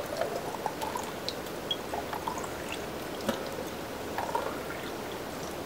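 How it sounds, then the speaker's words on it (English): Hot water poured steadily into small tincture bottles, a continuous close splashing trickle with faint drips and a few brief clinks, no talking. "just pour it in on top of the bottles"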